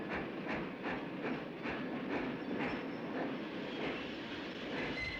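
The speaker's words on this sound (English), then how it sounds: "The train is coming." A train rolls along with a steady, rhythmic clickety-clack of wheels over rail joints, a continuous rumbling rush underneath.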